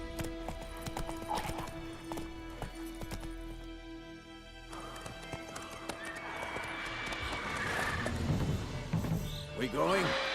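Roach the horse gallops in Witcher 3 with a steady clip-clop of hooves and a whinny. A voice speaks over the hoofbeats, and the sound grows busier and louder toward the end.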